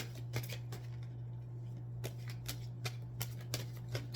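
Tarot cards shuffled and pulled during a reading, faint scattered flicks and slides of card stock over a low steady hum, sparse and quiet with no voice.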